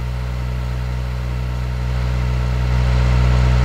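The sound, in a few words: car engine idling in the Electude simulator software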